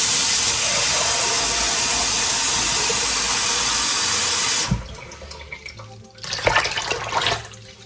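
Cold water pours steadily and loudly into a bowl for rinsing homemade butter made from heavy whipping cream, running continuously for several seconds before stopping, followed by quieter splashes and sloshing.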